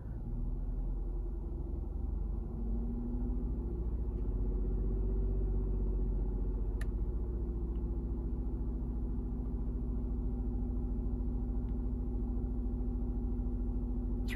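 A car engine held at 2,000 RPM, a steady, muffled low rumble with a constant hum and no change in pitch throughout.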